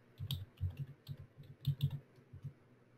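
Rapid keystrokes on a computer keyboard while a search term is typed, a run of fairly quiet, close clicks in an irregular rhythm, with no talking.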